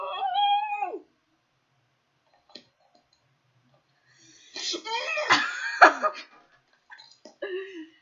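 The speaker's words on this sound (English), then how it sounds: "That dog makes him so mad." A dog howling in a video game, two drawn-out wavering howls with a short whimpering click in between, loud and clear over near silence.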